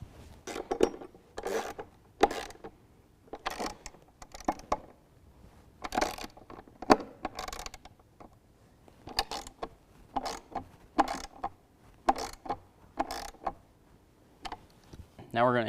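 A ratchet clicks in quick bursts tightening bolts on a DECKED truck bed storage system in a 2016 Toyota Tacoma, a dozen or so close rattling runs separated by short pauses.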